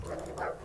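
Dogs bark in the video game Dysmantle. A quick pair of mid-pitched barks sounds slightly muffled within the game's ambient background, with no speech.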